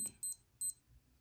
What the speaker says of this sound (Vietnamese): cứ bấm vào đây nó sẽ kêu tít tít này